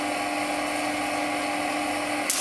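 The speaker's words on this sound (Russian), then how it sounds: "включаем генератор" High-voltage generator at a Tesla science show, switched on and humming with a loud, steady electrical buzz and whine throughout, ending with a sudden crackling burst.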